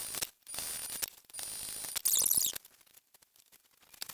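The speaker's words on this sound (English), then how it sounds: "I'm going to sew 3 lines starting at the bottom and going up towards the top." Sewing machine stitching lines on fabric for a pattern project, with short bursts of mechanical whirring and clicking separated by pauses.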